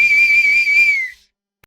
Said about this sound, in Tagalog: may narinig kaming sipol